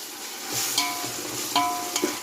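Ginger garlic paste frying with browned onions in a pan for chicken dum biryani, a steady hiss with a few scraping stirs and brief clinks of a spoon against metal, and no speech.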